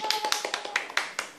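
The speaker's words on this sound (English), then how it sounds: "Clap, clap, clap, clap, clap, clap." At someone's birthday party, hands clap in a quick, slightly uneven run of soft, close claps, about a dozen in under two seconds.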